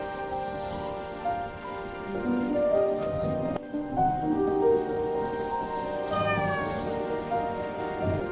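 A cartoon kitten in a Bangla 3D animation meows repeatedly in short, high, close calls over a steady musical background.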